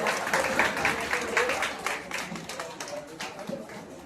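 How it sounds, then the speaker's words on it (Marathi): Audience applause at a Marathi drama convention's closing and prize-giving ceremony, a dense sustained wash of clapping from a large hall crowd lasting throughout at steady strength. "जोरदार टाळ्या"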